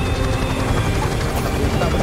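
Steady rotor and engine drone of a helicopter in Call of Duty Modern Warfare, a continuous close rumble with a voice talking over it.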